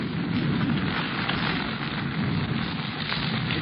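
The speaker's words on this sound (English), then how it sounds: "It's raining. Is that rain?" Heavy jungle rain sound effect from a radio drama, a dense steady downpour hiss filling the clip at constant loudness with no pauses or voices.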